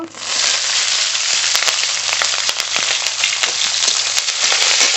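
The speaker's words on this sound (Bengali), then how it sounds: "রসুনটা একটু ভাজা ভাজা করে নেব" Garlic and green chilies sizzle in hot mustard oil, a loud, dense, steady hiss with rapid crackling pops throughout, close-up and continuous with no voices.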